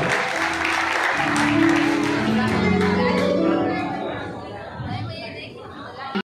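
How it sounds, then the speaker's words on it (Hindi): A crowd at a district-level singing contest held during the Das Lakshan festival claps for the next contestant, with applause mixed with loud chatter and children's voices before it fades under the talk. "अब अगले प्रतियोगी को बुलाऊंगा, नीलेश जैन, देवेंद्र नगर, जोरदार तालियों के साथ।"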